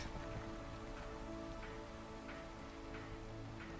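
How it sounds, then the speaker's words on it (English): Rain falls steadily in the Minecraft modpack TerraFirmaGreg, a faint continuous patter with occasional soft drop ticks and no voices. "I'm gonna go sleep this rain away real quick."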